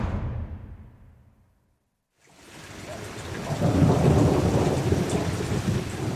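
Night rain with thunder in Monterrey: a loud rumble fades to near silence, then heavy rain swells back in as a steady close wash with deep rolling thunder beneath it.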